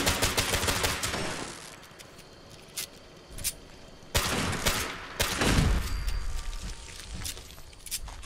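Gunfire in the video game Fallout 76: a loud opening burst, then scattered sharp shots and crackling bursts over a steady game background, with no talking.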